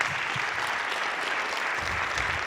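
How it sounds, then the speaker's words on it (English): Steady, dense audience applause at a religious gathering as a minister is welcomed to the podium, broad and sustained for the whole stretch with no talk over it. "Please give him a warm round of applause"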